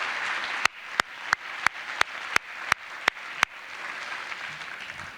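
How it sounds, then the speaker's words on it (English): About nine sharp, evenly spaced claps ring out over a quiet room hum at a school district staff awards ceremony, then stop, leaving faint background. "how about one big round of applause for everyone celebrating a Special Service Award accomplishment"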